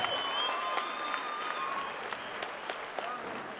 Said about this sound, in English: let's give both of these men a massive round of applause